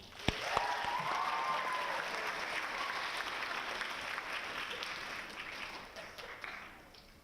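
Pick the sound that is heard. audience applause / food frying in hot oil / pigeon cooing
audience applause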